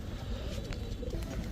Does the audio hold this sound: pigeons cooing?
yes